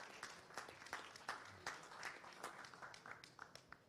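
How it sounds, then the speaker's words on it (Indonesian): Audience applause for Argentina's national football team at an Indonesian press event, a fairly faint, uneven patter of clapping from a modest crowd with distinct individual claps rising and falling. "Tepuk tangan buat Argentina."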